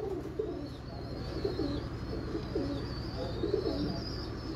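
Many pigeons coo continuously at a breeder's loft setup, rolling overlapping calls in a busy chorus alongside a faint high whine.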